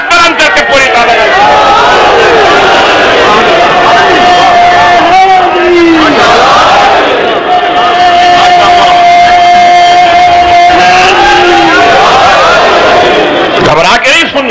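A large gathering at a religious address roars a slogan in unison with great force, loud massed voices rising and swelling in repeated waves that fill the whole stretch.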